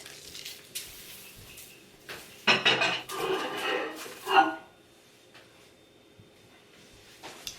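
A utensil stirs melted soap base in a container with scraping and clinking in a couple of close bursts, then quiet.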